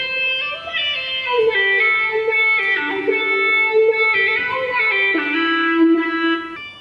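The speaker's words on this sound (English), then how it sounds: "I've fallen in love with this instrument that I found in Serum." Synth melody played on a Serum synthesizer instrument in a happy trap beat, a bright, smooth lead line of gliding, sustained notes, loud and close with no talking.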